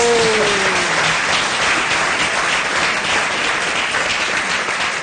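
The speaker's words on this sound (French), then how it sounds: "Applaudissez quand même" Audience at a live TV show applauding after a birthday song, loud, sustained clapping from a large crowd, even and unbroken throughout, with a brief whistle-like tone at the start.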